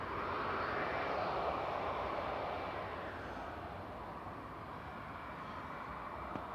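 An EasyJet airliner departing Manchester Airport, a broad steady jet engine roar heard from a distance that swells and then slowly eases off, no one talking.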